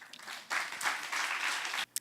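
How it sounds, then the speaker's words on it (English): At a cultural leaders' roundtable, a conference audience applauds high school performers, a quiet, somewhat distant burst of clapping that swells after a scattered start and stops suddenly. "I think they really deserve some applause."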